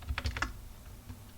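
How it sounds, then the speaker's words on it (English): A few quick keystrokes on a computer keyboard, clustered in the first half second while a command is typed, then fainter isolated taps; close and fairly quiet, no speech. "I'm just going to type it for you people."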